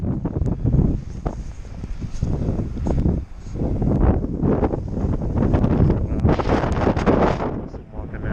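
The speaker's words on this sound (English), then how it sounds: "This wind is blowing like crazy." Strong blizzard wind roars and gusts loudly and continuously outdoors in a winter cyclone storm, buffeting the microphone with rumbling surges, and a person's voice can be heard briefly within it.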